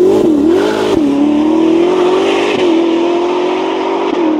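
A Ferrari SF90 Spider with the roof off and a Novitec exhaust accelerates hard, its loud, close engine note climbing steadily with brief dips at gear changes.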